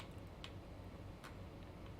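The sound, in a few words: ticking C4 bomb in Metal Gear Solid 2 video game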